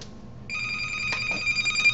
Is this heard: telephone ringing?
yes